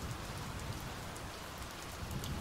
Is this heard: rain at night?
yes